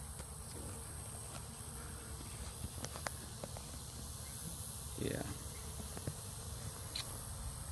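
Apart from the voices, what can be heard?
bees buzzing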